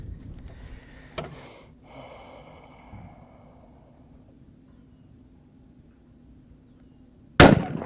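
.308 rifle fired at a desert target: one sharp, loud, close shot cracks out near the end after several seconds of near-quiet with a few faint handling noises.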